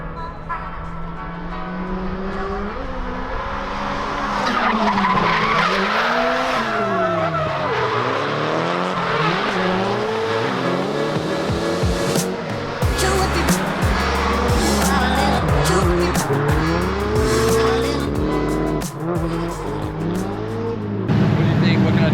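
A car drifting on a track in Japan, its engine wailing up and down, tires squealing in long screeches, with bursts of louder revving and crackle throughout.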